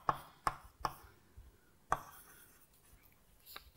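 Chalk or marker strokes on a board during a mathematics lecture on motivic mirror symmetry, heard as a few sharp, separate taps and scrapes spaced irregularly, fairly close, with no talk.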